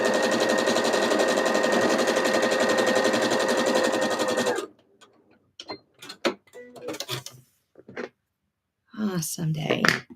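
A sewing machine stitching quilt pieces together runs in a steady, rapid mechanical whir for about four seconds, then stops, leaving a few scattered clicks and handling noises.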